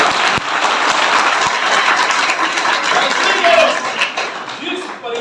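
Loud, dense applause from a seminar audience at a Sant Ravidas Jayanti gathering, steady and close for about five seconds before thinning at the end, with some voices mixed in.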